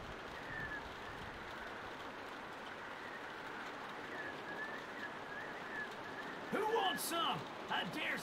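Steady rain falls throughout a scene in The Walking Dead video game, a continuous hiss with faint chirping, and a brief louder burst of sound near the end.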